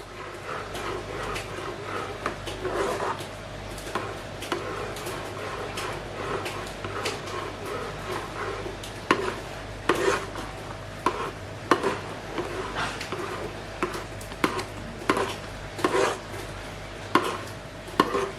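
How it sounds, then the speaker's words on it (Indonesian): Thick sago pearl cake batter is stirred in a pan over a low flame, giving soft scraping and sticky stirring sounds with sharper taps of the spoon, continuous and close. "Kita aduk terus sampai dia benar-benar kental semua, jangan sampai menggumpal."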